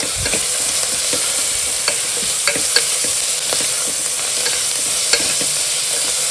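Coriander and vegetables sautéing in a pan for tomato kurma, a steady close sizzle with repeated scraping stirs of a spoon against the pan throughout, no talking.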